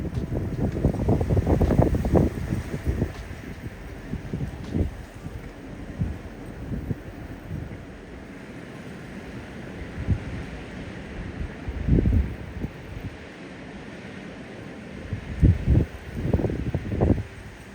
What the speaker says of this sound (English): it was freezing, and the wind is just whirling